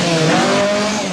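A rally car from the 1977 Lombard RAC Rally, driven by Russell Brookes, roars flat out over a forest stage with a loud, continuous engine drone close by. No one speaks over it.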